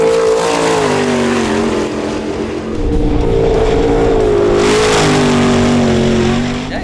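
A car engine revs hard and loud as the driver opens up the throttle out of a corner, rising in pitch, dipping briefly around the third second, then climbing again in a sustained roar with no talk over it.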